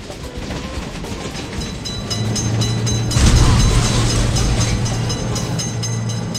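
A train passing a level crossing in the Indian Train Simulator game, a steady rolling rumble of rail wagons that swells louder midway, with a low sustained horn-like drone and no talk.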